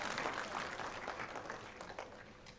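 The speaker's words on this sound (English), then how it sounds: "Applause." Audience applause fills a healthcare quality improvement conference hall, a steady, dense wash of clapping from many hands that holds for a few seconds before easing slightly.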